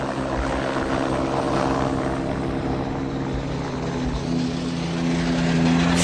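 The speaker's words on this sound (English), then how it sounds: "Helicopter just tracing along, following Dani towards the stage end." A helicopter tracks a rally car, Dani Sordo's MRF-shod machine, along the Sete Cidades stage of the Azores Rallye, its rotor and engine making a loud, steady, close drone that persists throughout with no voices.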